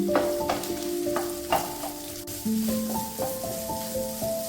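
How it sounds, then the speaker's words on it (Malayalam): Garlic, ginger, green chillies and cashews sauté in a pan over a medium flame with a continuous close sizzle, while a utensil stirs and scrapes at intervals. "ഒരു 2 മിനിറ്റ് മീഡിയം ഫ്ലെയിമിൽ ഒന്ന് സോട്ട് ചെയ്ത് കൊടുക്കാം."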